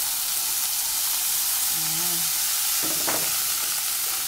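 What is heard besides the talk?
mushrooms sautéing with garlic in a frying pan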